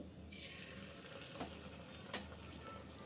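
Egg naan frying in a hot pan, a steady close sizzle that rises sharply at the start and stays loud throughout, with a couple of brief scraping or flipping accents and no talk.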